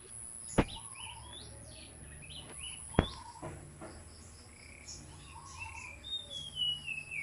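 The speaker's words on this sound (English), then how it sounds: "So relaxing when you hear birds are chirping" Small birds feeding on papaya give scattered high chirps and tweets at a distance, faint against an outdoor background with a couple of sharp clicks and a thin steady whine.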